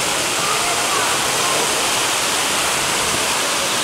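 Water splashes steadily from an outdoor fountain at Broadway at the Beach in Myrtle Beach, South Carolina, a dense, continuous rushing spray that fills the whole scene at close range.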